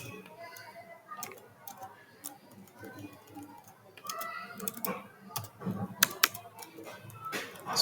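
An SQL query being typed on a computer keyboard in MySQL Workbench, with irregular bursts of quick, light key clicks, close by and fairly quiet, with a voice talking over parts of it.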